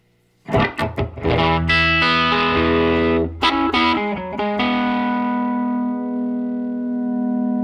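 Electric guitar strums and picked chords on a 1960 Gibson ES-335 with out-of-phase pickups, a thin, hollow, nasal tone, effects-heavy and ringing, ending on a long sustained chord that fades slowly.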